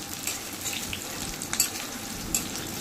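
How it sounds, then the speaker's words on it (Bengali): Onions sizzle steadily in oil while being stirred, a dense continuous frying hiss with occasional spoon scrapes against the pan, close and alone without talk. "তারপর পেঁয়াজটাকে তেলের সঙ্গে ভালো করে নেড়ে চেড়ে মিশিয়ে নিয়ে"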